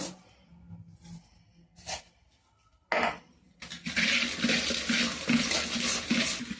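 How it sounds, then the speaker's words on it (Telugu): Water is poured into a bowl in a steady splashing stream that rises after a few quiet clattering moments. "కొంచెం వాటర్ కూడా పోద్దాం అందులో"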